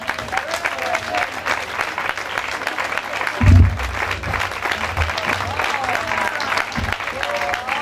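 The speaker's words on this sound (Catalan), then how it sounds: "Demanem un enorme aplaudiment" Applause for the newly chosen hereu and pubilla of the Sant Cristòfol and Mas Barberà neighbourhood, 2012: steady crowd clapping throughout, with a brief louder burst in the middle.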